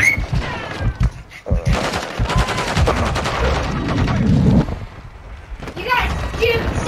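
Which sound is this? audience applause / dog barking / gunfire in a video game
gunfire in a video game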